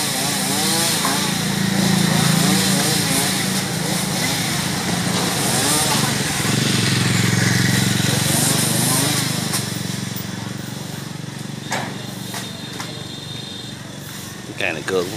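A chainsaw cuts a tangled mango tree beneath power lines, running loud and steady with revving pitch throughout, while someone talks over it.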